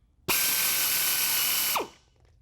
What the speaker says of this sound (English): now we need to drill a 1 1/8 inch hole for our new turn signal socket